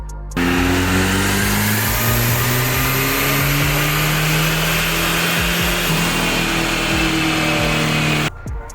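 A Ford SVO engine running Holley EFI revs hard through a full dyno pull at about 13 psi of boost. The loud, steady engine roar sweeps upward in pitch and holds for roughly eight seconds, then cuts off abruptly.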